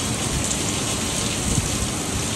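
Heavy rain from tropical storm Debby falls on a beach, a dense, loud, even hiss of drops and surf-like rush that fills the whole stretch without pause or voices.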